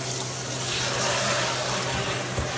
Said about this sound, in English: I'm just going to run cold water just so I can touch it.